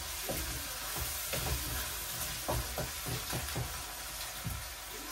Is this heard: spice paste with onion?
yes